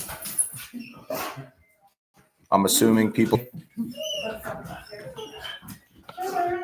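A dog barks in a loud burst partway through, close by and sharp, with someone talking before and after it.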